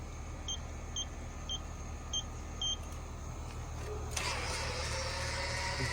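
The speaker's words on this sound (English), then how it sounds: "So here we go with my automatic doors. Let's close them here for you." Automatic garage doors closing at a home with a concrete driveway: five short, evenly spaced warning beeps, then a low motor hum that begins and runs steadily to the end.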